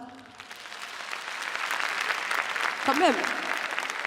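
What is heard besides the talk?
audience applause at a comedy show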